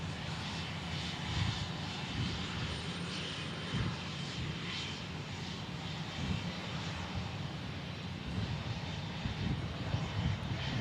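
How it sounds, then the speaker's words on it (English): A JetSuiteX Embraer jet lands at Dallas Love Field with a continuous, loud, rumbling engine roar that holds steady throughout. "Jet Suite X landing here on an Embraer."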